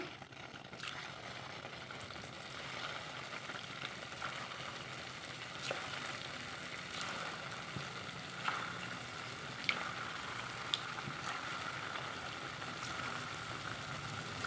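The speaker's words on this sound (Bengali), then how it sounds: "তেলটা এখন গরম হয়ে গেছে একে একে লাড্ডুগুলো এখন দিয়ে দিচ্ছি" Sweet dough balls made from spoiled milk sizzle continuously in hot oil in a wok, a steady crackling fry with occasional small pops, no voices.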